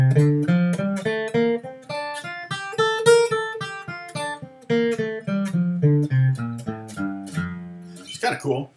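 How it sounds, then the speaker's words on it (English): Single guitar plucks a pentatonic scale with an added fourth, quick separate notes running up and back down at close range, with no talking. "I can also just play the pentatonic scale and just add that 4th too"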